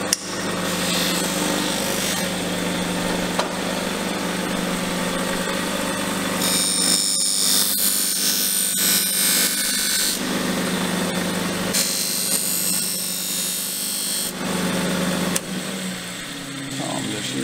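A polishing motor runs steadily throughout, hissing and whirring with shifting pressure as a steel knife edge made from steel plate is worked against it to knock off the burr, loud and continuous with no talk.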